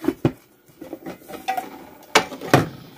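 The lid comes off a pot of Nutrient Survival emergency food, giving a few sharp, close metallic clanks and taps with quieter rattles between them.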